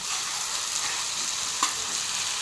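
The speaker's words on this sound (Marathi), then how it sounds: "कढईमध्ये एक पडी तेल गरम करून घेतलेलं आहे त्यामध्ये मी आता कांदे घालत आहे" Onions and a ginger, garlic and coconut paste fry in hot oil in a kadai, producing a dense, even hiss of sizzling with one small clink, close and continuous, no voices.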